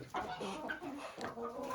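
Chickens cluck and murmur continuously, close by in a coop, with a few higher bird calls mixed in; no one speaks.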